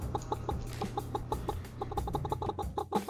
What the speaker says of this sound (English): So this is our original male chicken.